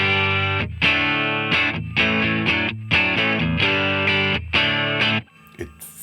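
Electric guitar played through a Fender ToneMaster Pro with reverb and delay switched off, sounding as a series of distorted, harmonically rich chords and riffs in short bursts with crisp stops between phrases, ending in a quieter tail.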